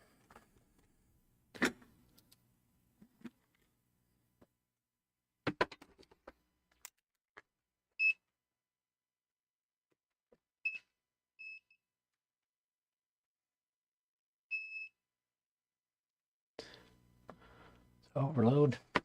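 Short, clear electronic beeps from a multimeter running continuity checks during a 3-inch OddityRC FPV drone build, heard three or four times at spaced intervals, fairly quiet, amid scattered handling noises and a burst of voice-like sound at the end.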